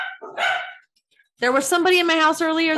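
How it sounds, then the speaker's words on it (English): Dogs bark loudly and repeatedly inside a house, a quick run of close, sharp barks that follows a person speaking. "sorry about the dogs."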